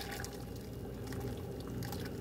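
Thick alfredo sauce pours steadily into a bowl, a soft continuous gloopy flow heard up close and quiet.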